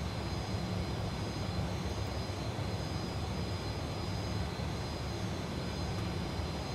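The jet engines of a Fokker F28 at takeoff from the short runway at Bolzano in Microsoft Flight Simulator, a steady, loud, broadband roar with a faint high whine that holds constant throughout with no talking.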